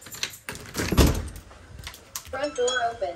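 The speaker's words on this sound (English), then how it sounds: "Front door open." A front door at home is opened, giving a solid thunk and rattle near the start, followed by clicks and movement while a voice speaks toward the end.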